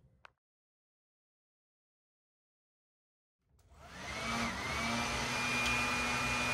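A faulty blow dryer with an electrical short switches on after a few seconds of silence and runs with a steady, loud whirring roar.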